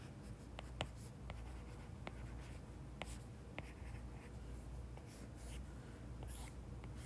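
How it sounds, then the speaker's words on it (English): Pen writing notes by hand on paper for a physics lesson on springs and simple harmonic motion, a steady faint scratching with sharp taps and strokes scattered throughout, close and alone. "I'm going to go ahead and write it right under here."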